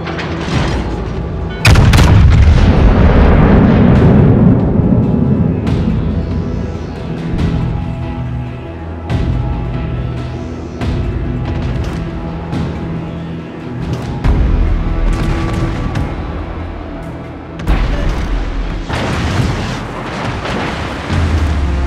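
Heavy booming main-gun salvos from the Yamato battleship in World of Warships, a loud deep blast early, then further rumbling shots and explosions over a continuous naval combat background.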